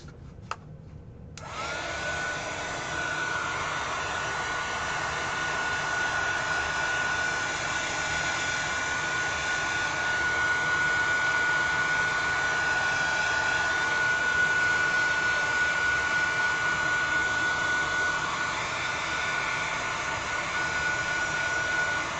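A hair dryer blows steadily and loudly at close range, a continuous whooshing roar with a faint whine that starts abruptly after a brief pause and holds unchanged to the end.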